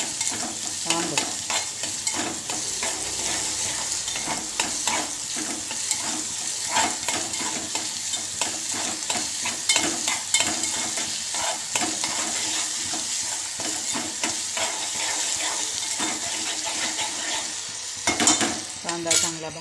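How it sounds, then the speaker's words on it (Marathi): Onion fries and sizzles in a pan, stirred with a utensil that scrapes and clinks steadily throughout, close and fairly loud, with no talk. "कांदा चांगला भाजायचा"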